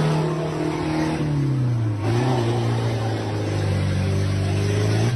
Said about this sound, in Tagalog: Grabe, lakas talaga ng makina, no?